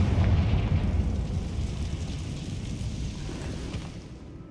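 A Confringo blasting spell explodes in Hogwarts Legacy, a loud low boom at the start that rumbles and fades gradually into a quieter tail.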